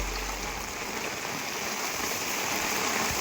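Heavy monsoon rain pours steadily over flooded paddy fields, a dense, continuous hiss of downpour close by with no pauses.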